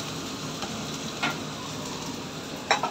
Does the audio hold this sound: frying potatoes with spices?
yes